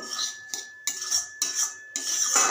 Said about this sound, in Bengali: এবার একটু ভালো মতো নাড়া দিতে থাকো, যতক্ষণ না একটু ভাজা ভাজা হয় সুজিগুলো।